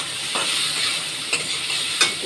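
Turmeric, cumin, coriander and Kashmiri chili powder with salt sizzle in a pan for a fish curry with cauliflower and potato, a steady frying hiss broken by a few sharp spatula scrapes, close and loud.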